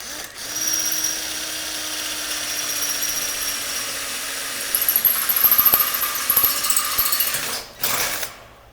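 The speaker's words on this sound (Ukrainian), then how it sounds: "треба просверлити насквозь в цій оцинковці" A power drill bores through galvanized sheet metal on a chicken cage, with a steady motor whine for several seconds, then rougher grinding and clicking as the bit breaks through, followed by a brief pause and a short final burst.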